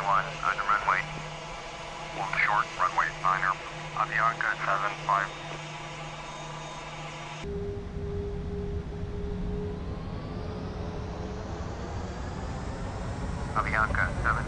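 An Airbus A321 on takeoff: radio voices chatter first, then the engines take over as a loud, steady roar with a rising whine that builds toward the end, and more radio talk returns.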